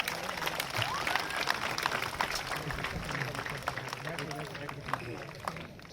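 An audience at an airport welcome during a district sports event for disabled athletes gives sustained applause, a dense, even wash of clapping with voices mixed in, steady throughout.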